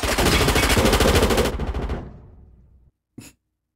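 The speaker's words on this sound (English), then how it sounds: "A suppressed shotgun, man." A suppressed shotgun fires in a film scene, with a rapid burst of loud blasts followed by a decaying rumble and silence, then one more short sharp report.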